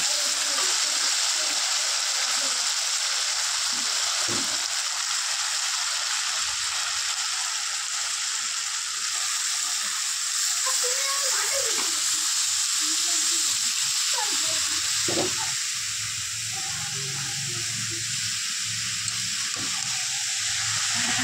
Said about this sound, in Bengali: এবার আমি বাঁধাকপি আলুর সবজিটি ঢেলে দেব।